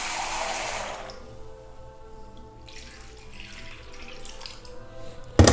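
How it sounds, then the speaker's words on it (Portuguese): Water pours into a cooking pot: a loud gushing stream for about a second, then quieter trickling and settling, ending with a sharp clatter. "Vou botar a mesma quantidade de água."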